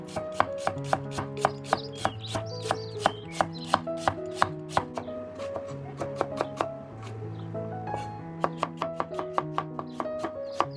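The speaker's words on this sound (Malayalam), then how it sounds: "പിന്നെ സവോള നമുക്ക് ചെറുതായിട്ട് കട്ട് ചെയ്തെടുക്കണം" A knife chops onion finely on a board for a quail roast, steady rapid strikes ringing out alone in a brisk, even rhythm.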